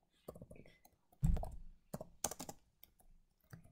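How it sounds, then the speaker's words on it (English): Typing on a computer keyboard, a few scattered clicks and clacks in short irregular bursts with quiet gaps, close and moderately loud. "why am I typing instead of talking?"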